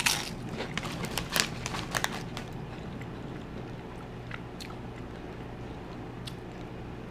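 Crunchy Quest protein chips are bitten and chewed close up, with a burst of sharp crackling crunches at the start that thin out into occasional softer crunches, and no talking.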